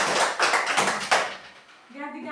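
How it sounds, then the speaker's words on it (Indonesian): A class of students clapping hands together in an Indonesian-language lesson, a short burst of close, dense claps for about a second and a half that fades out, followed by a voice. "tepuk tangan dulu untuk Natifa."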